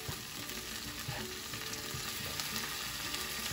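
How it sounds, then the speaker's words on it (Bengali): Carp fish gravy with onions frying in a pan, a dense close sizzle with faint stirring scrapes, steady throughout. "ভালোভাবে সব কিছু মিক্স করে একটু কষিয়ে নিব"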